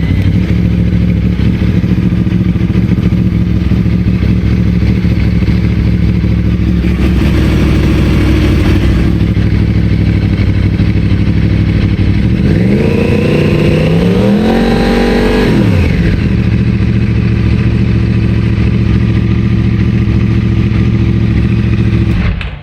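A 2009 Yamaha R1 motorcycle with a weak battery and a charging fault idles loudly and steadily nearby, then revs up sharply in a few rising throttle blips before settling back to idle.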